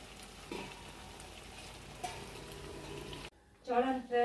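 Stuffed eggplant curry cooks in oil in a pan with a soft, steady sizzle for several seconds, then a brief cut, after which someone speaks near the end.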